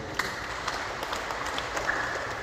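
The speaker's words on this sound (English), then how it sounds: "Let's give them a big round of applause" A congregation applauds after Sunday Mass at a Roman Catholic church, dense, even clapping from many people heard at a steady level for a couple of seconds, with a few sharper individual claps poking through.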